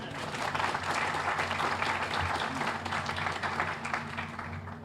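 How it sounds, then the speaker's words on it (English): Audience applause at a ribbon cutting, a steady, dense outdoor round of clapping from a crowd, sustained and moderately loud with no talking over it. "And, another round of applause."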